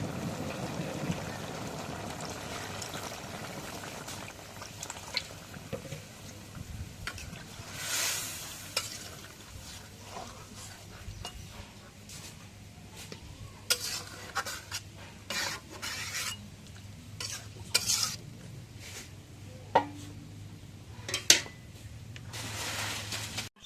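A potato and eggplant curry with small tengra fish simmers and sizzles in a pan after water is added, a soft bubbling hiss broken by clinks and scrapes of stirring, growing busier toward the end.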